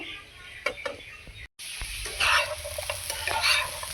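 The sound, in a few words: stirring and frying melted sugar in a pan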